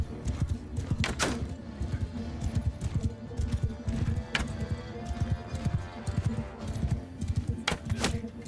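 Horse hooves clip-clop steadily in Mount and Blade II: Bannerlord, giving a close, continuous rhythmic pattern of thudding steps with occasional sharp clatters throughout.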